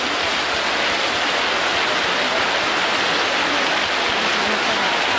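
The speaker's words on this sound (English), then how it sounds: "See the water coming out the side there. It's pouring out." Rainwater pours heavily off a roof in Guatemala, a dense, steady rushing wash that stays loud and unbroken throughout.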